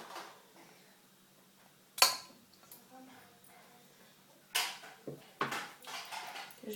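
A spoon clinks and scrapes in a pot as a big spoonful of Skippy peanut butter is stirred into hot cream for a speculoos panna cotta, with a sharp knock early and a run of clattering strokes near the end, faint and close.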